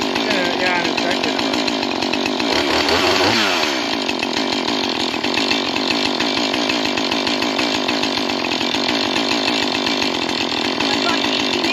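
A battery chainsaw cuts through a fallen tree, its motor whining loudly and continuously with a brief rise and drop in pitch early on, close by, while people talk under it.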